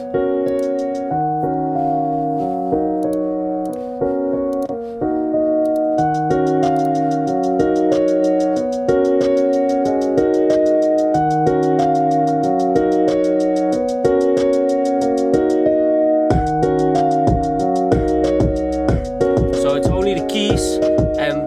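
A song plays with repeating piano chords over a steady programmed drum beat, loud and continuous, with busier percussion toward the end.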